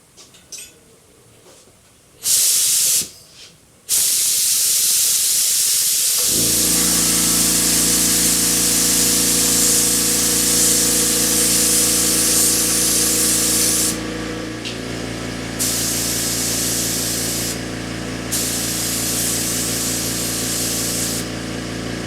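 Aerosol spray paint hisses onto a 1/350 Polar Lights Star Trek TOS Enterprise model kit in long, loud, continuous bursts, with brief pauses between passes and a steady hum underneath.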